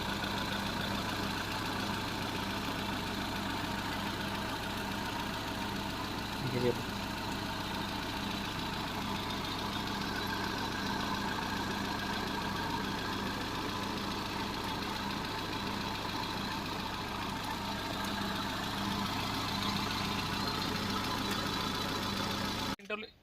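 A 2009 Hyundai Santro Xing petrol car engine idles smoothly and steadily at close range, a constant low hum with a faint tick, running alone for over twenty seconds before cutting off abruptly.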